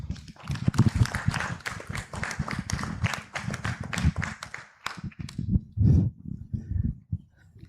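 Conference attendees at Tangaza University applaud a presenter with dense, close hand claps that thin out into scattered, uneven claps and a few louder bursts before trailing off.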